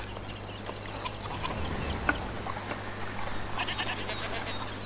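Goat bleating amid the background ambience of the video game A Plague Tale: Requiem, a few faint calls blending into a steady hiss of environmental noise with no talk.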